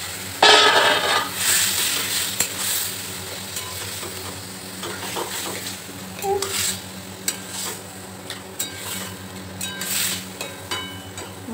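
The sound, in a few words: stirring boiled vegetables into spice masala in a pot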